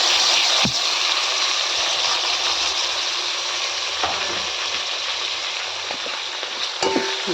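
Two tomatoes frying in a pan with turmeric while cooking khichadi: a steady, close sizzle throughout, broken by a few soft clicks and scrapes from stirring.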